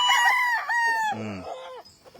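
Young gamefowl stag on a game farm crowing once, close and loud, with a bright drawn-out call that breaks into a lower, wavering tail and fades.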